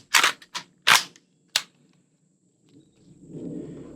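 An AK rifle with a 16-inch barrel and a muzzle brake fires four sharp, loud shots at an outdoor range, three close together and one after a short gap, followed by quieter rumbling.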